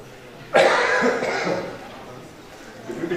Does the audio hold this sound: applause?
no